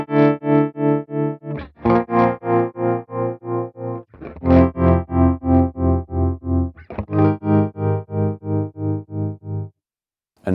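Guitar chords through the Morgan Amps Suite with tremolo at full depth chop the volume into sharp, regular pulses that dip toward silence, three strummed chords in sequence, loud and up front with no talk.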